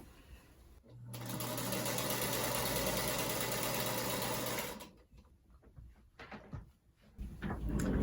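A sewing machine stitches a quarter-inch seam joining quilt block pieces right sides together, running in one steady continuous whir for about four seconds before stopping, followed by quieter handling noises.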